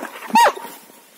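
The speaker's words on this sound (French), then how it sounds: "Tais-toi. C'est votre chien." A working-line female dog gives one sharp, close bark that trails into a brief whimpering whine, with no talk over it.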